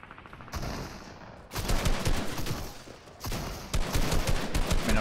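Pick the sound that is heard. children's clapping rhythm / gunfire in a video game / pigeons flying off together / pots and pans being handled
gunfire in a video game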